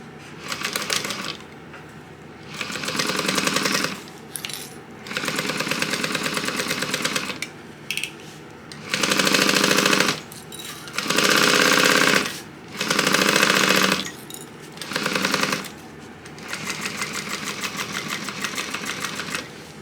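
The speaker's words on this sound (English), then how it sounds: "I'm just going to baste around here at 1/8 of an inch seam allowance." A sewing machine bastes a seam on a crossbody bag in a series of rapid, steady stitching bursts separated by short pauses, close and clear.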